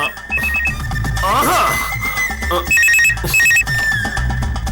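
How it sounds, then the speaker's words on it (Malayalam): A telephone rings in repeated electronic bursts, loud and close, with voices and background sounds in between. "മോഹനേട്ടനാ ഫോൺ"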